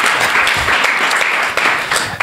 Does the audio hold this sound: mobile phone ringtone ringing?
no